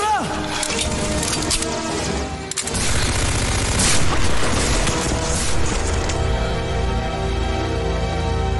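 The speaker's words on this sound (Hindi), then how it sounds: "गोली चला" Rifle gunfire in a Hindi war film, heard as a dense burst of shots and booms mixed with a heavy, continuous soundtrack, loud throughout with one sharp break partway through.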